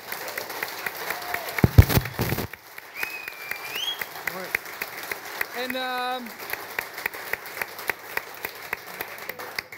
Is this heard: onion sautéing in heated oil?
no